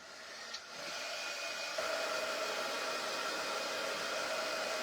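A hair dryer blows steady and close on freshly applied paint, a continuous broadband whoosh that starts after a brief click and holds at an even loudness with no talking.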